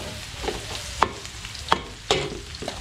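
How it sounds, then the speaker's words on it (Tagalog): Garlic and onion sautéing in a pan, a soft steady sizzle broken by a few sharp clinks and scrapes of a utensil stirring, close and fairly quiet with no talking. "papupulayin ko lang itong bawang sibuyas natin"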